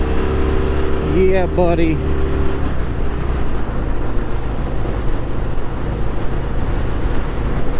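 A 2018 Harley-Davidson Softail Fat Bob motorcycle engine gives a loud continuous rumble, with heavy wind noise from riding, while a rider speaks briefly near the start.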